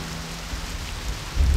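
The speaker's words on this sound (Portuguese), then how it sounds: "Tá chovendo torrencialmente." Heavy torrential rain pours in the Black Desert video game, a steady dense hiss of downpour with a low rumble swelling near the end, no voices.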